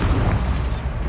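A Bombarda blasting spell goes off in the Hogwarts Legacy video game, a loud, dense, sustained explosive boom with heavy low-end rumble and a hissing, crackling upper layer, filling the short moment without any voices.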